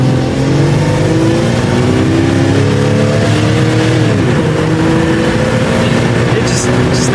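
A Jeep Cherokee engine runs steadily while the vehicle drives on a road, with a continuous loud drone and shifting engine tones that rise and fall over several seconds.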